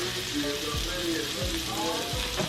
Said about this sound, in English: we're going to add a couple of pats of butter to our oil. Butter in the oil.